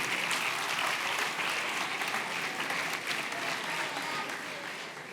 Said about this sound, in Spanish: Sí, se merecen un aplauso ustedes, se lo merecen, ¿no?